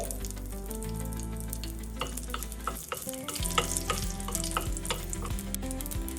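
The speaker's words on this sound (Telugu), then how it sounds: "ఆవాలు జీలకర్ర మినపప్పు వేసుకోవాలి ఇవి కొంచెం ఫ్రై అయిన తర్వాత ఎండుమిరపకాయ కూడా వేసుకోవాలి" Mustard seeds, cumin and urad dal sizzle steadily in hot oil for a chutney tempering, a continuous close frying hiss with light crackles, with a tonal backing underneath and no talking.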